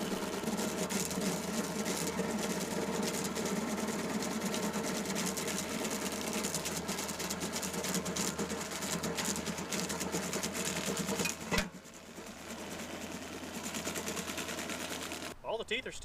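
A stump grinder chewing into a hard black walnut tree stump, a continuous loud rattling, chattering grind that runs steadily, cuts out briefly, then resumes before stopping again near the end.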